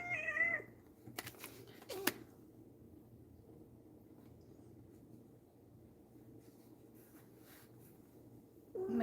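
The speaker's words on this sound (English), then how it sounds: "My kitty has come to say hello." A pet cat gives soft, fairly close meows, one at the start and another at the very end, separated by quiet room hush with a couple of small taps.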